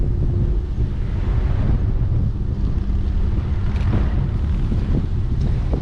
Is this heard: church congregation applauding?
no